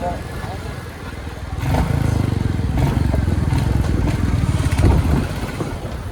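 A Royal Enfield motorcycle's engine rumbles steadily while being ridden, a low, continuous drone with wind buffeting, as riders talk over it throughout.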